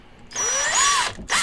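A power drill fitted with a cobalt bit spins up with a rising whine, runs briefly at speed, then stops and restarts for a moment, close and fairly loud with no voices.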